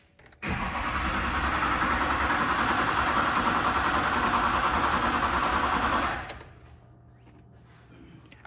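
A Duramax diesel truck engine cranks and runs loudly and steadily for about six seconds, then cuts out abruptly into a quiet background hum.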